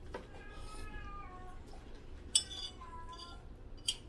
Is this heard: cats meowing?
yes